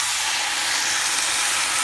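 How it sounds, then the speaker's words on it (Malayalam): Water from a glass hitting a hot pan of potato and cabbage curry gives a loud, steady steamy hiss and sizzle that holds evenly for under two seconds, close and with no talking. "ഇനി ഒരു ഗ്ലാസ് വെള്ളം ഒഴിച്ച്"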